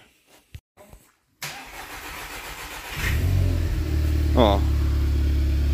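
A 2014 VW Passat Alltrack 1.8 TFSI with a damaged engine cranks over on the starter, fires up and settles into a steady idle with a brief rev, close and loud; a voice speaks briefly beforehand.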